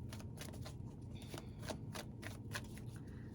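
Tarot cards being shuffled close up and quietly, a soft run of rapid riffles and slaps repeating every half second or so, with no talk.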